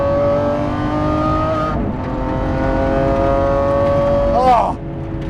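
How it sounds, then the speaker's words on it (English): A 2020 Lamborghini SVJ engine heard from the cabin as a steady, loud high-revving drone that shifts pitch at a gear change, then swoops sharply in pitch before easing off. "I am driving a 2020 Lamborghini SVJ."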